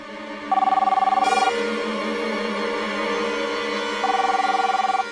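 A landline telephone rings in two trilling bursts separated by a pause, close and fairly loud over a steady background hum.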